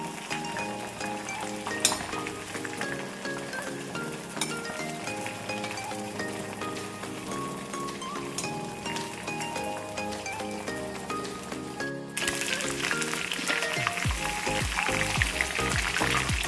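Chicken 65 pieces frying in a pan of oil, a steady crackling sizzle under faint background music, growing louder and busier toward the end.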